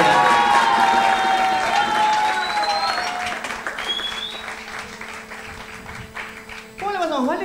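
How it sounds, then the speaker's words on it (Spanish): A crowd at a live music show applauds and cheers for a performer named Valeria, loud clapping tapering slightly while a voice speaks over it and sung or tonal notes trail through. "Fuerte ese aplauso para Valeria. Quiero el aplauso más fuerte"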